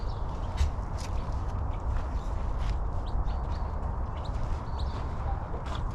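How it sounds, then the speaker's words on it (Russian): Turkeys, pheasants and guinea fowl in an enclosure on Yelagin Island, St. Petersburg, giving scattered short chirps and calls over a steady low outdoor rumble, with faint footsteps and distant murmur. "Индюки, фазаны, цесарка."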